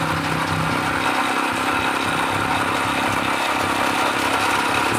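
Motorcycle engine running steadily and loud throughout, a continuous rough mid-pitched drone on a parcel delivery ride in San Quintin, Abra, with no talk.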